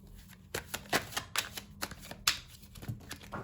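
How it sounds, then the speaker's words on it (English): Tarot cards slip and fall onto a surface in a quick run of light, papery slaps and clatters, close and distinct, spread over a few seconds. "some cards fell down"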